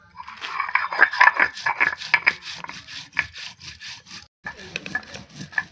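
Ginger and spices are ground by hand for a tilapia curry, giving a run of quick, close rasping scrapes in an uneven rhythm, with one brief pause before the strokes resume.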